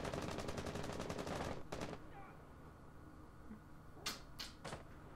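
Rapid gunfire in a shooter video game's ranked Reborn event, a fast burst of shots for the first second and a half, then a few scattered distant shots at the end, with no talk.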